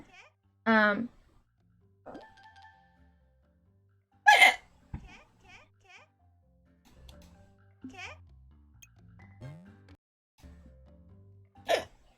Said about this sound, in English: Now I have hiccups.